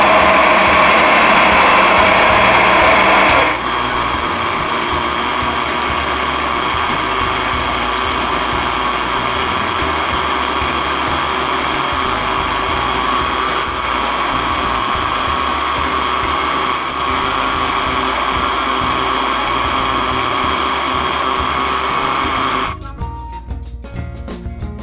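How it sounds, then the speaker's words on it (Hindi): Electric grinder whirring loudly and steadily as it blends watermelon chunks with lemon for juice, a brief higher-pitched start giving way to a sustained motor drone for about twenty seconds before it winds down and stops. "अब हम इसको ग्राइंड करेंगे।"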